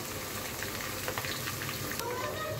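Onion and ginger-garlic paste frying for tehari, a steady close sizzle with faint stirring clicks running throughout.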